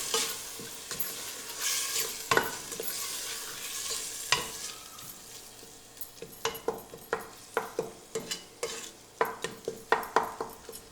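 Seasonings are stirred into lentils cooking in a pan, a low sizzle under a steady run of spoon scrapes and taps against the metal, growing into a regular rhythmic beat toward the end, close and with no voices.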